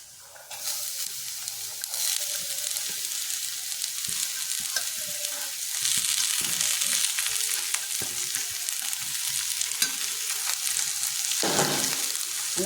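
Chopped jackfruit hits a hot pan of browned garlic and dried red chili, setting off a dense, continuous crackling sizzle that stays fairly steady throughout, with occasional brief stirring scrapes.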